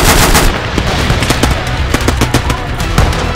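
Loud, close machine-gun and rifle fire in the WWII video game Call To Arms: Gates Of Hell during the Battle of Dunkirk 1940, with rapid overlapping bursts and sharp individual shots throughout.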